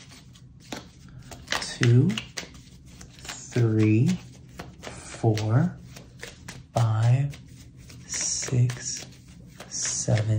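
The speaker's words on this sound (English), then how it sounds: "seven overhand shuffles" Tarot deck getting seven overhand shuffles, soft crisp riffling bursts recurring steadily under a person counting aloud close by.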